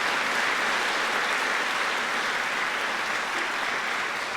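An audience applauds at a university lecture event, a steady wash of clapping that holds evenly for about four seconds and fades slightly at the end.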